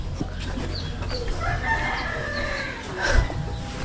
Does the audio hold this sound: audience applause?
no